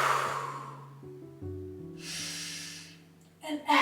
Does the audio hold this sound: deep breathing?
yes